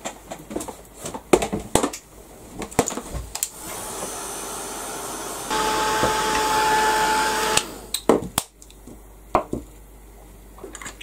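A heat gun drying paint blows with a steady whooshing roar, starting softer then stepping up louder for a few seconds, surrounded by close brushing and tapping handling noises.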